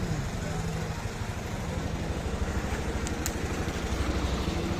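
A motor vehicle engine idles after starting, a steady low rattling drone that stays close and fairly loud throughout with no break.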